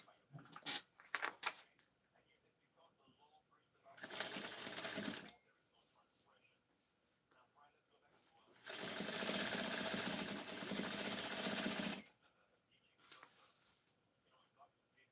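Home sewing machine stitching a prom dress, running in two bursts, a short one then a longer steady whir, with quiet pauses and handling noise between.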